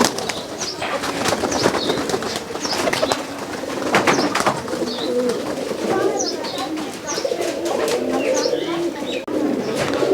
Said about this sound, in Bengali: এগুলো ভাই সাদা সুইটার কবুতর